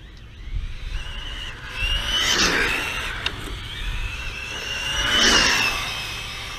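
An Arrma Infraction 6s RC car revs and accelerates in two surging bursts, a whining electric motor with tire noise rising and falling over faint background, loud and fairly close.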